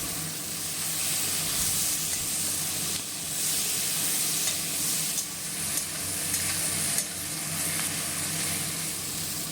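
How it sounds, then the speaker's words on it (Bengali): Onions sizzle steadily in a pan with a little salt and turmeric as the base for a Bengali-style mutton curry, a continuous close frying hiss broken by faint stirring scrapes, with no talking. "পেঁয়াজগুলোকে ভালো করে লাল লাল করে ভেজে নিব। দেখো সামান্য নুন আর হলুদ দিয়ে দিলাম পেঁয়াজটাতে"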